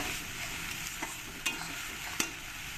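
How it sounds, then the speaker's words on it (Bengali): Onion paste frying in a pan for a mustard pomfret fish curry gives a soft, continuous sizzle, with a few brief clicks of stirring and no voices. "দিয়ে দেবো আমি পেঁয়াজ পেস্ট পেঁয়াজটা একটু ভালো করে কষিয়ে নিতে হবে"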